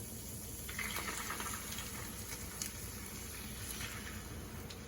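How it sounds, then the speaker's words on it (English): Water pours into a pan of seasoned ground meat for nachos as a steady, soft rushing wash lasting several seconds, faint and close with no voices. "you're going to add 2/3 cup water"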